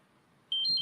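A personal alarm gives a short, bright electronic beep that starts abruptly partway through and holds steady against a quiet room.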